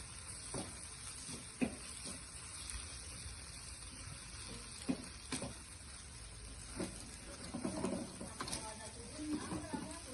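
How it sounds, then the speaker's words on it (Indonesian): Eggs being scrambled and stir-fried with seasoning and meatballs in a wok for fried kway teow, heard as a faint, steady sizzle with occasional scraping and clinking of the spatula, ending with brief soft talk. "Terus kita orak-arik telurnya sampai kecampur rata sama semua bumbunya sama baksonya"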